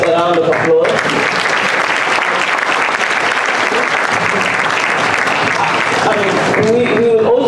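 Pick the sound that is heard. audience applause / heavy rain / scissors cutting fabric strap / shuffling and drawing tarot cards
audience applause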